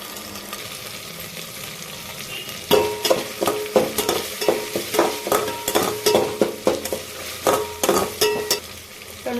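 Ginger paste fries in oil for prawn biryani, a continuous sizzle that gives way to a quick run of rhythmic spoon-against-pan stirring strokes, close and fairly loud.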